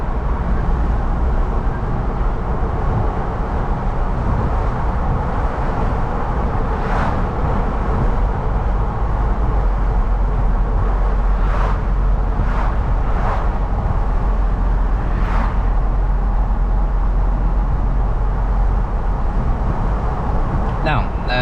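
A 2021 Ford Bronco cruises on a road through turns and bumps at about 45, with a steady low cabin rumble and road roar running throughout beneath someone talking.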